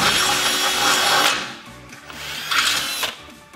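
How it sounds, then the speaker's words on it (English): Power drill boring a hole in a go-kart floor pan, a loud whining buzz that drops off, then a second short burst of drilling nearby. "So I'm gonna drill one quick hole."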